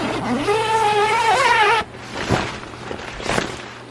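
A Porsche GT3 engine rises and falls in a loud, revving snarl as the car pulls out, then drops away to quieter mechanical and rolling noises.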